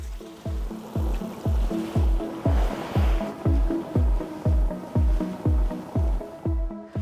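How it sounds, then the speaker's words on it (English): Coconut water pours into a hot rice pan on an outdoor grill with a steady rushing splash and sizzle, set over a repeating rhythmic thumping beat, then fades near the end. "And next we're going to add in our coconut water."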